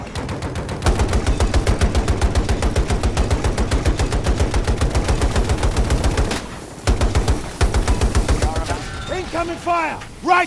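Rapid, steady automatic gunfire from a Battlefield 2042 Conquest match, loud and near, in long sustained bursts with two brief pauses, ending in scattered impacts and echoing shots.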